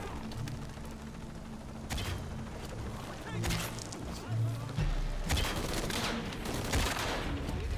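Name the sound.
gunfire in video game Shadow of the Tomb Raider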